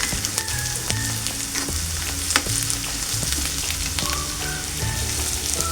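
Half a teaspoon of ginger garlic paste frying in a pan for a drumstick tomato curry, a loud, close sizzle with crackling pops and repeated clinks and scrapes of stirring, plus faint tonal background music.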